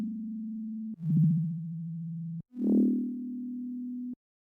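A YM2612 FM synthesizer chip module in VCV Rack sounds a pure sine-like tone that holds, dips in pitch with a wobbling attack, then rises and sustains before cutting off, with no voices.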